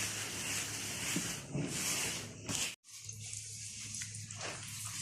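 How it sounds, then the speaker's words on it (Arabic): Warm water poured gradually into flour for bread dough, a close, steady splashing trickle that stops abruptly midway and then resumes more softly. "احط الميه الدافيه شويه بشويه على حسب الدقيق بتاعك"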